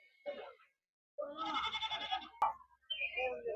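Sheep at the Gudur livestock market give a few close bleats: one short call, then a longer wavering bleat, then another drawn-out call after a brief pause.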